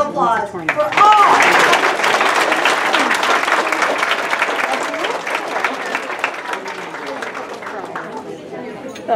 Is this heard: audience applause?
yes